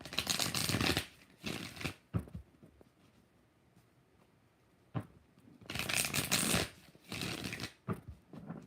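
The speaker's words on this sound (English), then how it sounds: "5 shuffles." Tarot cards riffle-shuffled in several quick, crisp bursts close by, with quiet pauses between the rounds.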